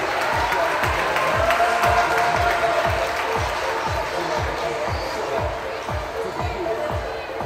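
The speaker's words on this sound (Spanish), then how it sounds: "El aplauso para el Naranjillo, claro que sí." An audience applauds for the El Naranjillo kindergarten at a community event for kindergartens in Xalapa: steady, dense clapping from a crowd that holds at an even level throughout, with a rhythmic thumping beat underneath.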